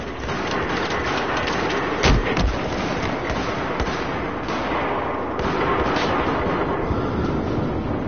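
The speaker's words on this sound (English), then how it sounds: "Shotgun." Shotgun blasts in the video game Battlefield 4, a few sharp heavy booms, the loudest about two seconds in, standing out over dense continuous battle noise with scattered distant shots and no talk.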